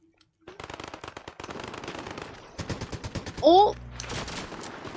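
Rapid bursts of automatic gunfire from aliens in Fortnite Chapter 5 Season 4 rattle in quick succession with brief pauses, mixed with game sound effects and a short spoken exclamation.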